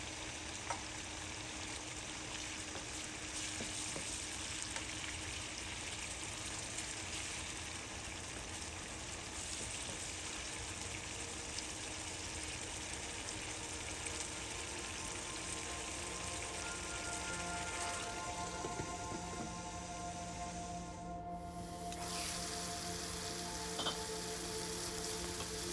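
Chicken and aubergines simmer in a pan with a splash of water, giving a steady, even sizzle and bubbling hiss that runs throughout with only slight shifts near the end.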